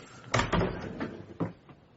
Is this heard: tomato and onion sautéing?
no